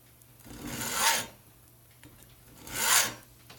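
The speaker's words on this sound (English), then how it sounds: "I don't really know why me and my hacksaw don't get along so well." A hacksaw fitted with a brand-new blade makes two slow, separate rasping strokes, each swelling and fading. The cutting is quiet and close, with no talking.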